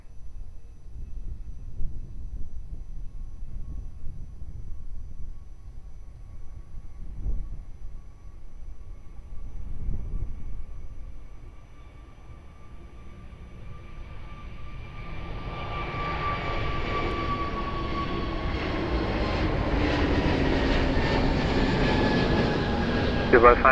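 A Lufthansa airliner on approach to runway 02 at Lisbon Airport, its jet engine hum swelling from faint and distant to a loud, broad whine over the last several seconds, with steady ambient rumble beneath.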